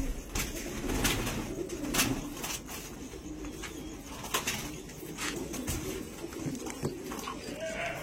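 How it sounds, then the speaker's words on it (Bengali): Andhra pigeons brought from Guntur to Howrah coo in low, soft, steady murmurs close by, with some faint background noise and possible brief voices. "এই দুটো পায়রা উনি দিয়েছে আমাকে"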